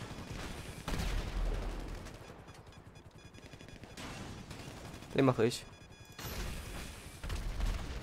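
Gunfire from Grand Theft Auto V during a heist mission plays in short bursts and sharp cracks, spaced apart with quieter gaps, while someone talks over the action.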